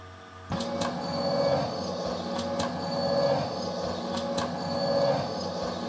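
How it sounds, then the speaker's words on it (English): A locked groove from a bizarre vinyl record loops a gritty, train-like mechanical texture with repeating clicks and squealing metallic tones every second or so, starting abruptly and cycling steadily. "I'm going to play some of these locked grooves because it's a bizarre record"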